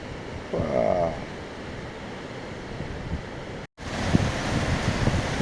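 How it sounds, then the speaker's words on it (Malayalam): A fast river of glacial meltwater rushes on the route through Sonamarg in Kashmir toward Kargil, a broad continuous roar with gusting wind buffeting the microphone and a brief dropout midway. "ഇതൊക്കെ പുഴ എത്ര ശക്തിയിലാണ് ഒഴുകാൻ നോക്കിയാൽ. ഐസ് ഉരുകി വരുന്ന വെള്ളമാണ് കേട്ടോ."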